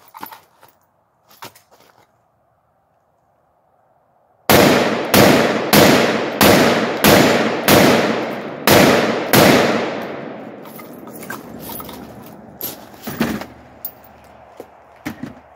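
Gunfire from an AR-15 pistol with a 7.5-inch barrel outdoors: about eight loud, sharp shots in a fairly even rhythm, each with a booming echo, followed by a few fainter pops and clatter.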